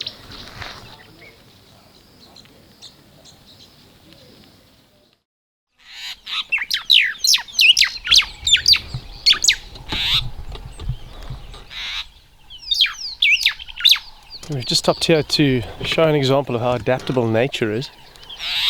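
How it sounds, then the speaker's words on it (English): A white-browed sparrow weaver calls repeatedly from a tree in bursts of chirpy, chattering notes, fairly close, with someone talking over parts of it. "There's a pretty little bird calling up in this tree called a white-browed sparrow weaver."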